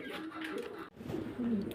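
Soft pigeon cooing, low and throaty, repeating in short phrases close by, with a brief dip in the middle.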